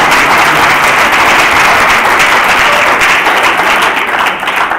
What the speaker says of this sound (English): I think we should give a big round of applause for everyone.